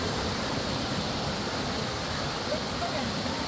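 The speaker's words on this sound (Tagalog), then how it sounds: "maliit lang pala yung waterfalls dito, no?" A small waterfall at Little Baguio in Infanta, Quezon gives off a steady, even, full rush of falling water that does not change over the few seconds.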